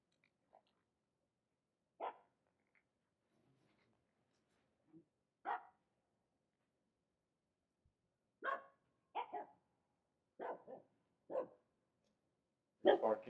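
A dog barks at a lake in sharp, scattered single barks and short doubled bursts, fairly close, with quiet gaps between them and no talk.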